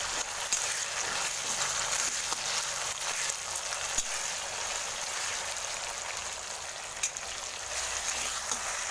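Ginger garlic paste sizzles loudly in a hot pan while it is mixed in, making a dense, continuous frying hiss with occasional scraping taps from stirring.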